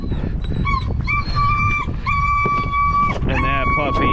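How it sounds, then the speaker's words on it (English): A puppy whines and yips in high, wavering cries outdoors in blizzard conditions, repeated in several drawn-out bursts, loud and close over steady wind and a voice. "He's whining because he ran into the Reese hitch."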